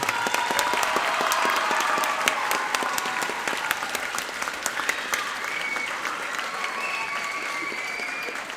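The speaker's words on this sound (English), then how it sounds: "Will you give everybody that's played tonight one more round of applause and then thank you?" Audience applause at a middle school popular music concert, a full, sustained crowd clapping with a few whoops, gradually thinning toward the end, moderately loud.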